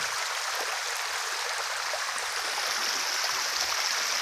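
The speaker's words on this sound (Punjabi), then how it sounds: "ਆ ਸਾਰਾ ਪਾਣੀ ਇਹ ਚੱਲ ਰਿਹਾ ਇਧਰੋਂ ਆਉਂਦਾ ਇਧਰ ਨੂੰ ਚੱਲ ਰਿਹਾ" Steady rushing of stream water flowing past a small weir, a continuous close hiss of water with no breaks and no voices.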